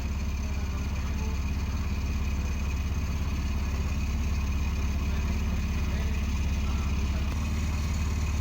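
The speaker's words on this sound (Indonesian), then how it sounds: "Pakai motor mobil mesin motor." Steady engine hum from a car fitted with a motorcycle engine, running continuously at a constant idle-like pitch, close and fairly loud throughout.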